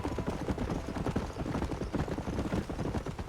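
Horse hooves clip-clopping steadily in the Red Dead Redemption video game, a dense, continuous rhythm of close, fairly loud hoofbeats with no voices over it.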